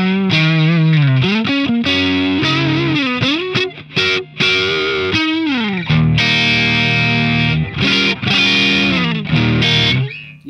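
An electric guitar on its single-coil pickups plays through a Diezel Schmidt amp, loud and continuous, with sustained chords and ringing melodic notes carrying a driven, effected tone and only brief gaps between phrases.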